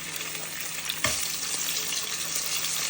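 Rabbit meat hits a hot pan with a sudden sizzle, then fries in a steady, bright crackle close by with no voices.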